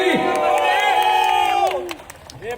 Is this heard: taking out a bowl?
no